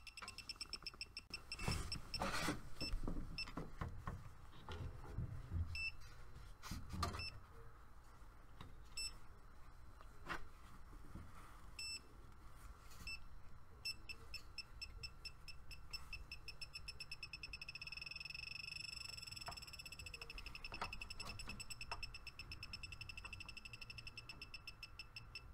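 An electronic refrigerant leak detector probing an AC unit chirps with repeated short beeps, the tones speeding into a rapid continuous beeping toward the end, over handling noise and a steady background hum.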